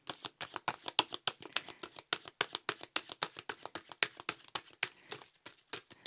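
Paper oracle cards being crumpled and shuffled by hand, a rapid run of crisp, close crackling slaps in a steady irregular rhythm with no talking.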